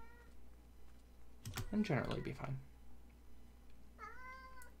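A cat meows near the end with a clear, drawn-out rising cry, following a burst of game-commentary speech and faint keyboard typing.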